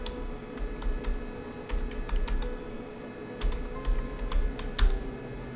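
Close fingers tap steadily on a computer keyboard, making a run of quick, soft key clicks in uneven bursts over a low room hum, with no talk.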